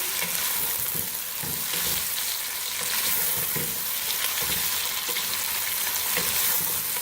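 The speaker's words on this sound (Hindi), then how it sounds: "ऑयल गर्म हो चुका हुआ है। सबसे पहले इसमें प्याज शामिल करेंगे।" Steady, loud sizzling of onions frying in hot oil, with occasional stirring scrapes throughout and no talking.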